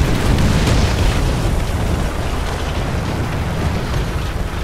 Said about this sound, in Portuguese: Foi cair em cima dele a artilharia